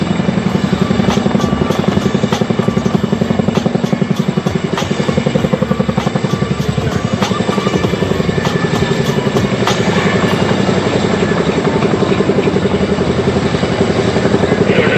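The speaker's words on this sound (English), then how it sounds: "now both the helicopters will slide left and then to the right in perfect harmony" Indian Air Force helicopters at an air show fly past in a steady, loud, close rotor thump with a rhythmic chop and engine whine that holds throughout, with no voices over it.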